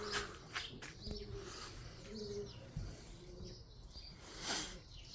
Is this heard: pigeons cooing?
yes